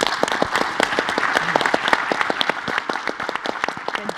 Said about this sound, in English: Please give a round of applause on that one.